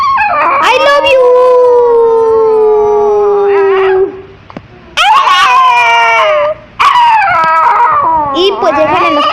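A dog howls in long, wavering, cry-like wails that sound like a child crying, loud and close, with short pauses between bursts.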